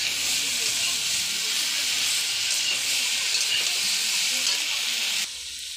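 Chili paste sizzles steadily in hot oil while frying for a village-style rui fish curry, a loud, continuous hiss that drops slightly near the end.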